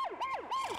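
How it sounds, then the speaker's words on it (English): Cartoon emergency vehicle siren wailing in a steady repeating up-and-down sweep, three clear cycles, fairly loud and close with no talking. "Pat tends to wail his siren during his sleep."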